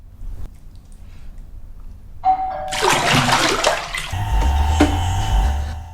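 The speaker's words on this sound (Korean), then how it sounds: "온몸에서 나는 악취에 먼저 샤워부터 하던 그때" A shower in a horror film scene: after near-silence with a soft tap, water bursts on and runs loudly, hissing and splashing, joined by a low drone and a ringing tone toward the end.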